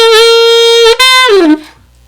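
A jazz doo-wah articulation played with the dip too quick and not swinging: a loud, bright sustained brass-like tone that briefly breaks, then bends downward quickly and fades out.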